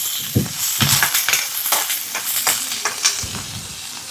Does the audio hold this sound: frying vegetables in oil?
yes